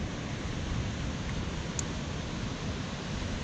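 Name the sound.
giant waterfall on the Mist Trail, Yosemite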